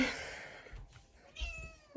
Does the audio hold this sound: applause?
no